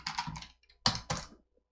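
Fingers type a database command on a computer keyboard in two quick bursts of close, crisp key clicks separated by a brief pause.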